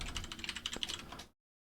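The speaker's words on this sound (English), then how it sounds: "I make so many typing mistakes." Quick typing on a computer keyboard, a close burst of rapid key clicks lasting about a second before cutting to silence.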